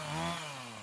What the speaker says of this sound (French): On finit de tronçonner les dernières sections proprement, en prenant bien soin de ne pas aller mordre le sol avec la chaîne de la tronçonneuse.